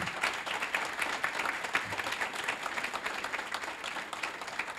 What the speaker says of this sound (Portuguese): nós vamos recebê-los com uma salva de palmas